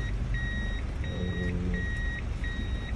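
A car's reversing sensor beeps repeatedly while parking, a steady series of evenly spaced electronic tones over a low engine hum, with no talking.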